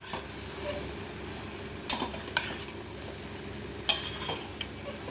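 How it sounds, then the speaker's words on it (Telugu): Carrots and beans steaming in a pan get stirred now and then, a steady soft sizzle with a few sharp scraping clicks of a spoon against the metal, close and moderately quiet. "సిమ్లో పెట్టి మధ్య మధ్యలో కలుపుతూ వాటిని ఆవిరికి ఉడికించుకోవాలి"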